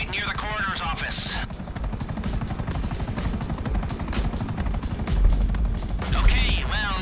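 Helicopter in the video game GTA V, a continuous rapid rotor chop and engine drone filling the scene, with voices speaking over it in places.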